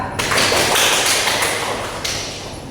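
Students applaud a classmate in a civics class, a short round of close, brisk clapping that softens toward the end.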